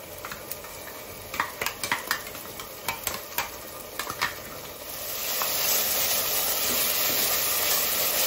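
Green chillies and onion frying with masala in a pan, a run of sharp metallic stirring clinks and scrapes followed by a louder, steady sizzle as the masala goes in.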